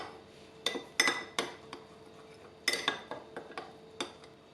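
Metal spoon clinking against a bowl while paprika and salt are stirred together, a run of sharp irregular taps and scrapes in two bursts, close and clear in a quiet kitchen.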